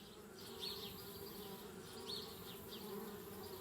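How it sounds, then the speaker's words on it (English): Bees buzz steadily in the adventure game Anna's Quest, a low droning hum with recurring higher swells as insects drift closer and away, continuous for several seconds with no talk. "But I can't handle the bees."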